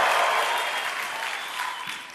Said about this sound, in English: If you are, make some noise!